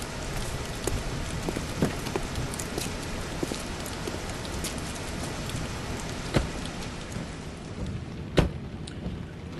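Steady heavy rain pours throughout, with a few sharp thunder cracks standing out, one loud crash near the end.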